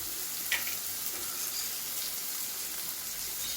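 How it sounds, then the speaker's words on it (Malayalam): Chopped onion, ginger and garlic frying in hot oil give a soft, steady sizzle with faint crackles, heard alone and fairly quiet. "അപ്പോൾ നമുക്ക് ഈ സവാള അരിഞ്ഞു വെച്ച സവാള ഇട്ടിട്ട് കൊടുക്കാം."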